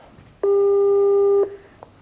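A telephone busy signal sounds once as a steady, loud electronic tone lasting about a second, an unanswered call with a faint click after it and no voice.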